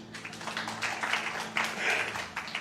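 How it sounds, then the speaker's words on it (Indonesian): A church congregation gives a short round of applause for Ibu Esi, brisk, uneven clapping over a low background hum, moderately loud and fading after a couple of seconds. "Tepuk tangan buat Ibu Esi."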